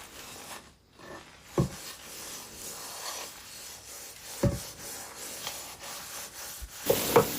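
Rough scrubbing and rubbing on a new, greasy frying pan, continuous and close, with occasional sharper knocks and scrapes and no talking.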